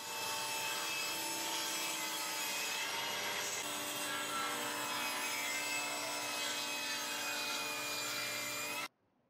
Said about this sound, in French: La lame de scie dépasse à peine du bois massif, tout simplement pour éviter qu'il y ait trop de projection